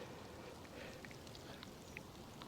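Heavy rain pours steadily at a fishing spot, a dense continuous hiss with scattered faint drop ticks, alone and unbroken.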